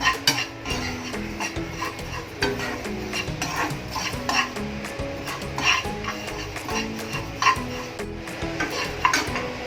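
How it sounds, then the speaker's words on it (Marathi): Small niger seeds crackle and pop in a hot dry pan while being roasted and stirred, a busy close-up patter of tiny ticks and scraping. "मी कारळ भाजलं म्हणजे असं तडतड उडतं ते तिळासारखं"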